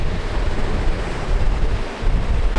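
Ocean waves at Bondi Beach, Australia, churning and washing in a continuous loud roar with wind buffeting the microphone, no voices.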